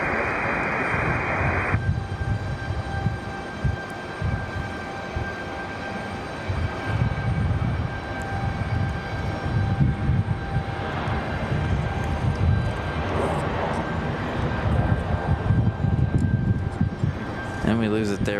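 An American airliner departing from Raleigh-Durham airport gives off a sustained jet engine roar heard from a distance, broad and steady throughout, with a brief tone at the start and faint background clatter.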